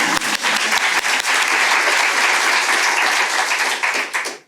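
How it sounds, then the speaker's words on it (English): Sustained audience applause at a panel event on combating antisemitism and Islamophobia: a few distinct opening claps quickly build into a full, loud roar of clapping that holds steady, then thins out at the end. "Let's give a round of applause to everyone."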